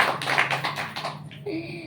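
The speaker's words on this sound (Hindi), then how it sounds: "सभी ने खूब तालियां बजाई, सारे बच्चे ताली बजा रहे हैं।" A group of children clap their hands together during a spiritual class session, a brisk mixed patter of claps that thins out and gives way to a brief tonal sound near the end.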